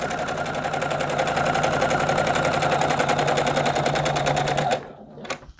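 A sewing machine fitted with a walking foot stitches quilt fabric for a crib-size quilt, running in a steady rapid mechanical chatter close by for nearly five seconds before stopping abruptly, followed by a brief faint click.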